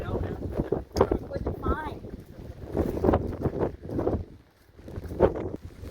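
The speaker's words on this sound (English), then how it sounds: "It's getting windy here." Strong Hurricane Ian wind buffets the microphone at a fishing pier at Anclote Gulf Park, loud rumbling gusts surging and easing in waves with brief voices and clatter mixed in.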